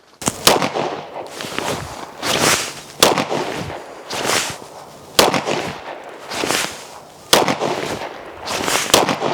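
Pistol shots from Glock-clone handguns, a DR920 or a Dagger, crack out loud and close at the range. About seven sharp reports come in short pairs and clusters, spaced roughly a second or two apart, with no talking.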